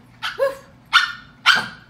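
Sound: dog barking and singing

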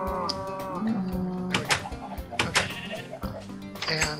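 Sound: sheep and farm animals bleating in a video game

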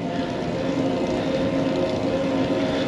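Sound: electric bicycle motor under power

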